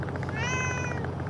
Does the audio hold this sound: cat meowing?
yes